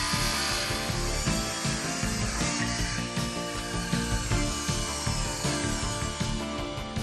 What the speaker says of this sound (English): With the blade adjusted to an angled setting, the saw produces a beveled cut.